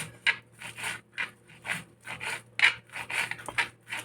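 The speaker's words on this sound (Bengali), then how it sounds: "এবার কেটে নেবো চপিং বোর্ডের মধ্যে দেখো একদম যতটা মিহি করে কাটবেন ততটা ভালো হবে" Knife finely chopping fresh coriander and mint leaves on a chopping board, a quick rhythmic series of close, crisp cuts and scraping strokes repeating steadily, no talking.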